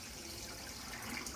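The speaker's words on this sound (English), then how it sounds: "So I'm going to pour some more water off." Hot water is poured off cooked lasagna noodles in a kitchen, a steady close splashing rush of liquid with no talking.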